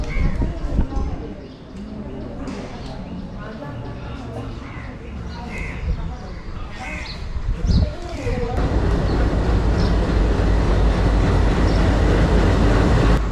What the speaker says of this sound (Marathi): तर आता बघा इकडे आपली ट्रेन आलेली आहे.